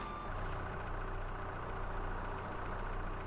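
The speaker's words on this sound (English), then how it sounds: "One thing I am noticing about the skid steer here is that it backs up and dumps" A skid steer's engine runs steadily in Farming Simulator, a continuous loud mechanical drone with a low rumble and a faint whine, holding an even level throughout with no talking.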